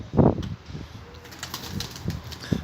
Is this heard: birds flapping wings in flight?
yes